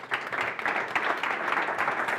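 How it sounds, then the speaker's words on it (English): Audience applause at a rental bike industry summit, a steady wash of many hands clapping together, moderately loud and continuous throughout with no talk over it. "Claps."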